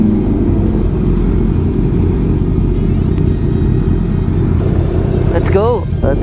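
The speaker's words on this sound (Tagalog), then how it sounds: "Grabe tunugan ng mga motor." A large group of motorcycles rumbles loudly and steadily during an anniversary club ride, with engines revving close by under a voice talking.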